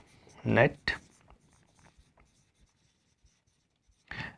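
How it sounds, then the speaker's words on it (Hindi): A net purchase accounting formula being handwritten, with short scratchy pen strokes in a few quick bursts and small taps between them, close and fairly quiet. "नेट परचेज का फॉर्मूला यहां पर को मैं लिख देता हूं"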